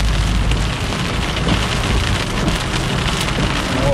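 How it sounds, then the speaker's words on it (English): Heavy thunderstorm rain pours down in Miami, Florida, a dense, loud, continuous hiss of drops striking surfaces with no pauses or voices. "I think this storm is getting even more active now."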